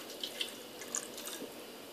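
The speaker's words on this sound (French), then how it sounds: "je verse un peu d'eau" Water is poured into a pan of lentil sambar with tamarind and vegetables: a soft, steady trickle with a few light splashy drips, close and quiet, with no talking.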